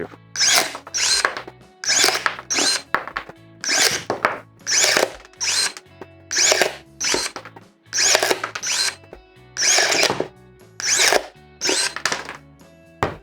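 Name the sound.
Procraft ES32Li cordless secateurs cutting 20 mm oak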